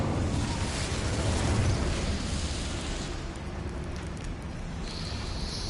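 The Incendio fire spell in Hogwarts Legacy bursts out as a loud, broad whoosh and roar of flame that fills the whole moment, easing slightly toward the end.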